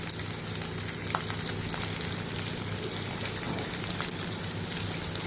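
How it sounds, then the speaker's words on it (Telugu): Salt and turmeric frying in a pan give a steady, even sizzle with faint crackles, close and uninterrupted, with no voices. "వేసుకొని కొంచెం వేగనిస్తాను."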